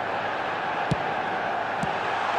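A football video game's stadium crowd gives off a steady, distant roar of massed voices, with two brief faint thumps breaking through the even din.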